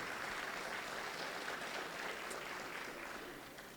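Audience applause at a motivational talk, a faint, distant patter of clapping from a crowd, even and steady before tapering slightly at the end, with no voices over it.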